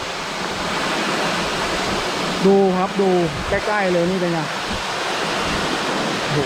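Steady, powerful roar of Chokkradin Waterfall in Thong Pha Phum National Park, Kanchanaburi, Thailand, fills the scene, with a voice speaking briefly over it.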